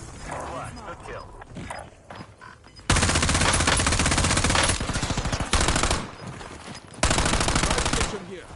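Close-air-support gunfire in the Warzone video game pounds in loud, dense sustained bursts, three long volleys separated by short quieter gaps, over in-game background noise.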